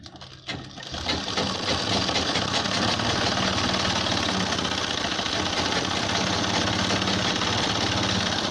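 A sewing machine stitches a seam along the sleeve of a ladies' kurta, starting with a few quick clicks before settling into a loud, continuous, fast-running whir that lasts to the end.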